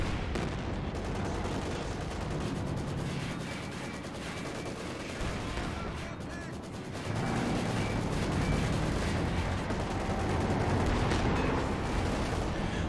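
Tank and artillery fire in Company of Heroes 2, a dense, continuous barrage of heavy booms and rattling shots that swells louder about halfway through, with no clear voices on top.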